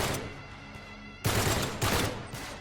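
Gunfire from the Uncharted 3 video game rattles in dense bursts, starting with a sustained loud barrage and then breaking into sharp, heavy volleys with brief gaps between them.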